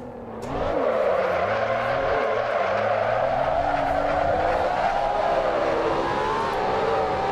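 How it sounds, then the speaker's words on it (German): LaFerrari with its 750 hp V12 drifting around Paul Ricard in Assetto Corsa, a sustained high tire squeal layered over a wavering engine tone, loud and continuous after a quick onset. "Und schon hat man da mal eben locker ein paar hundert Meter Drift"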